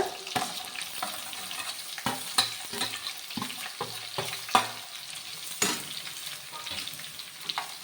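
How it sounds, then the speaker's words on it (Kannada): Onions fry in oil for a masala dosa filling, giving a steady close sizzle broken by frequent scraping and clattering stirs of a spoon against the pan. "ಇದನ್ನು ಒಂದು ಎರಡು ನಿಮಿಷ ಬೇಯಿಸ್ಕೊಳ್ಳೋಣ ಎಣ್ಣೆಯಲ್ಲಿ"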